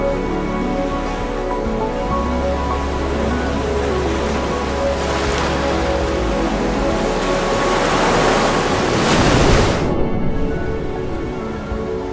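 Ocean waves and surf roar in a steady, loud, broadband wash, building toward a crashing peak near the end before cutting off; no voices.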